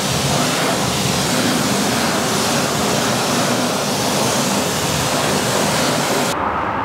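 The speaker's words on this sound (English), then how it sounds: "It's actually so satisfying, jetting off a wheel, especially with all this soap on." A pressure-washer jet blasts soap off a car wheel, a loud, unbroken hiss of spraying water that runs throughout and cuts off sharply at the very end.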